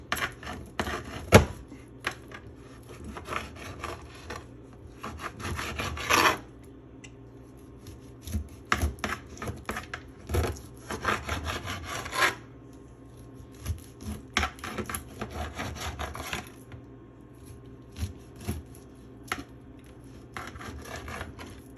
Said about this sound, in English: you should be able to cut straight through the bone